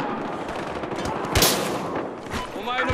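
Gunfire in the game Battlefield Hardline, with a loud sharp crack standing out from ongoing shooting and battle noise, with a voice speaking underneath.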